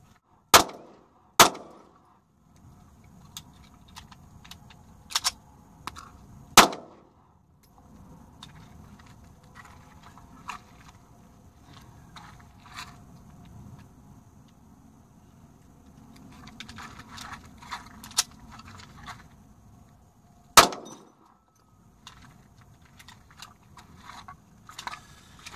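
A Ruger SR40c pistol fires sharp, loud gunshots in an irregular sequence, several in quick succession early and a couple spaced later, with quiet handling noise between.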